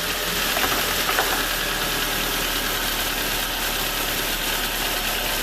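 A Ford Focus engine idles steadily close by, a constant broadband hum with faint periodic knocking, no voices present.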